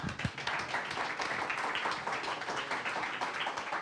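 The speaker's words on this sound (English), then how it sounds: "Big round of applause again for the second team" A hackathon audience applauds a competing team, steady clapping heard fairly distant and soft, continuing evenly throughout.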